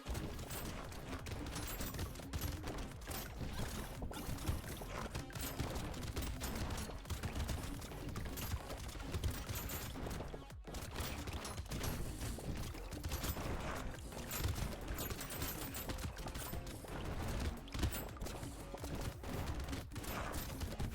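Pocket factories in the video game Brotato fire streams of projectiles, a dense, continuous rattle of rapid shots that stays loud and busy throughout.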